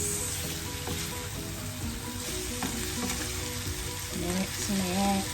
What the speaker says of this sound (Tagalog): Okay, i-mix na to aron ma-even ang pagkuan sa chicken curry.